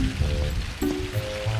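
Steady rain falls and patters on surfaces, heard from shelter beneath a bridge, with a continuous wash of drops and a few brief tonal sounds over it.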